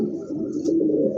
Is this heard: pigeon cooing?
yes